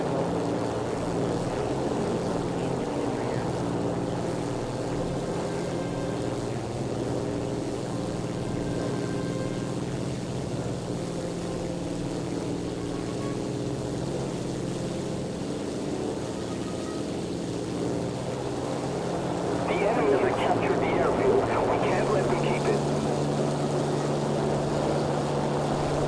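Propeller plane engine in the War Thunder video game, a steady droning hum held throughout at moderate level, growing louder and rougher near the end.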